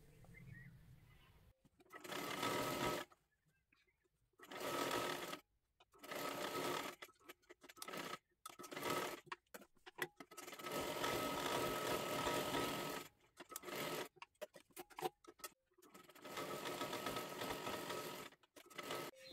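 A sewing machine runs in repeated bursts of a few seconds each, separated by short pauses, as it stitches a one-piece kathpadar saree dress for a 9 to 10 year old girl. The whirring is close and loud, with no voices over it.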